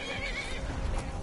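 A horse in the video game Skyrim whinnies loudly and close, a shrill wavering neigh over a dense, noisy background.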